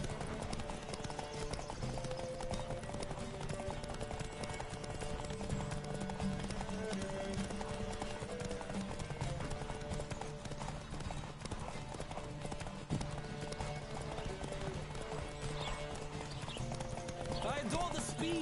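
Horse hooves gallop in a steady, rapid clip-clop throughout a race in The Witcher 3, loud and continuous beneath game music, with voices calling out over the ride.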